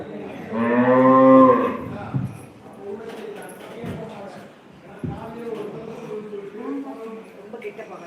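At a cow shelter (goshala), a cow lets out a loud, drawn-out moo near the microphone, followed by softer lowing mixed with people talking nearby.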